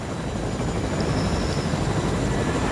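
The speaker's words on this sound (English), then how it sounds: "I go get the helicopter ready" Helicopter in the Fortnite video game, a steady, dense rotor-and-engine drone holding at an even loudness throughout, close and continuous with no talking.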